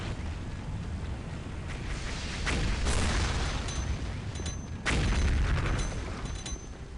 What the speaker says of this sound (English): that meteor explosion